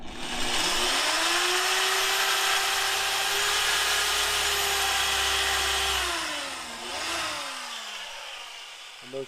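A cordless power drill whirs steadily while a propane water heater is mounted in an off-grid shower, its motor spinning up, holding a constant whine for several seconds, briefly dipping, then winding down, close and alone.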